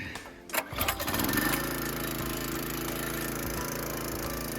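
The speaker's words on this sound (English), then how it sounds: "Time to fire up the engine." A small engine on a firewood splitter is pulled to life, sputtering briefly before catching and settling into a steady, loud, close idle that runs on alone.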